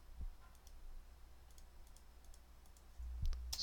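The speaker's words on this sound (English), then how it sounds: "I double-clicked everything that I want. I held down the shift with my little finger and clicked the 2" Faint, scattered clicks of a computer keyboard and mouse while playing War Commander, sparse light taps spread across a quiet background with a low hum, a few quick clicks bunched near the end.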